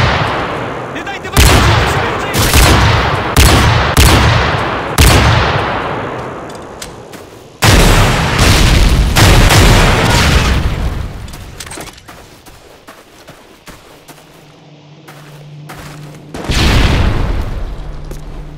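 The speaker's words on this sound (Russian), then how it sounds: "Кидаю гранату!" Grenade explosion and gunfire in a modded military video game mission, loud booming blasts and rapid bursts of shots in repeated bursts, then a lull with a low hum before another burst of fire.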